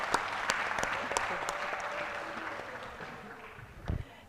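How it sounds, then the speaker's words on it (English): Audience at an international humanities conference opening ceremony clapping for themselves, a fairly soft, sustained round of applause with a few sharper individual claps standing out, tapering off toward the end. "can you clap for yourselves?"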